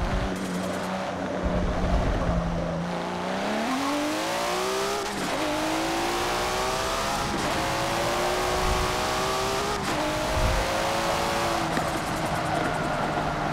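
A Nissan GT-R R34 in Forza Motorsport 7, heard from outside, roars loudly and continuously as the engine revs rise and fall through gear shifts with turbo whoosh between them.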